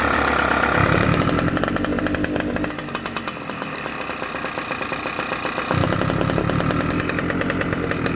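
A 1990 Derbi Variant flat-reed, liquid-cooled moped engine keeps running when it should shut off, a close, buzzy two-stroke drone that rises and falls in pitch and level as the revs shift.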